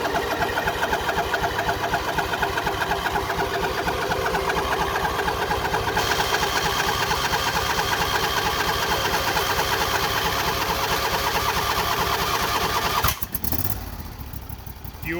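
The engine of a 2007 Husqvarna YTH2454 riding mower cranks and sputters in a rapid mechanical chatter, running roughly and loudly before a sharp backfire-like burst, then settling lower.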